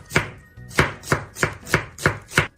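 A knife chops through the base of an onion on a cutting board in seven crisp, evenly spaced strikes, each a sharp thud with a brief crunch, close and clear with no talk.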